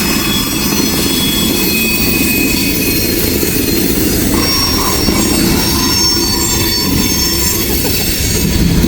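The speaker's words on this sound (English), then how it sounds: "It's a Coke train." A loaded freight train hauling coke rumbles past at close range, its wheels squealing continuously over a steady, loud roar of railcars with faint rhythmic clacking, no voices.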